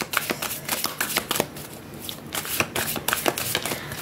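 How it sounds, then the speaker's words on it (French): Tarot cards are shuffled and handled in quick, close bursts of riffling and slapping, a dense papery rattle over about four seconds. "Je vais prendre juste 4 cartes cette fois-ci."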